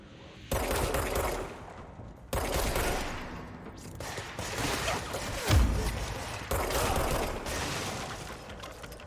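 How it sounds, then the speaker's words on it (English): Video game gunfire comes in repeated loud bursts of rapid automatic shots with mechanical clatter, separated by short pauses. The shooting is close and heard on its own, without talk over it. "who's shooting?"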